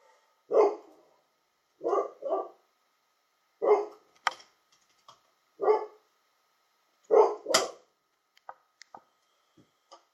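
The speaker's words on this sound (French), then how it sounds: "les chiens vont gueuler comme d'habitude." Dogs barking nearby, about half a dozen sharp separate barks spaced a second or two apart with some doubled, plus a few small clicks and taps in an otherwise quiet space.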